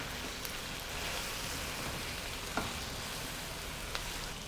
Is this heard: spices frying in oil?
yes